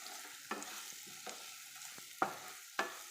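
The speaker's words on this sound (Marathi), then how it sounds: "लाल तिखट घरगुती मसाला लाल तिखट टाकायचं चांगलं परतून घ्यायचं" Chole masala and red chili powder sautéed in a pan, faint quiet sizzling broken by several clinking spoon scrapes against the pan as the spices are stirred, no voices.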